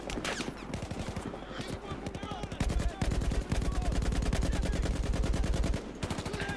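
Rapid automatic gunfire from Battlefield 4 rattles in tight bursts, loud and close, with short pauses between volleys and a long sustained stretch of shots in the middle.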